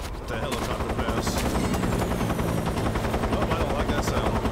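A helicopter in Metal Gear Solid 3: Snake Eater passes with a loud, continuous rotor chop while rapid bursts of gunfire crackle over it.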